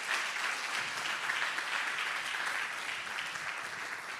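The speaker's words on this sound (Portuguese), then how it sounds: "Eu queria chamar o nosso presidente, que eu peço bater palmas, ao nosso Wilson." A gathering celebrating thirty years of a Spiritist doctrine course breaks into sustained applause for its president, a dense, even wash of many hands clapping at steady loudness before easing slightly at the end.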